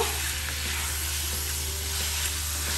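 Tangra fish stirred with green chillies and spices in a frying pan, a steady close sizzle with faint scraping of the spoon running throughout.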